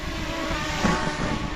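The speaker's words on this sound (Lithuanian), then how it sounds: "Na va, pakėlėm droną." A drone hovers just after takeoff with a steady, fairly faint propeller whine and hum throughout.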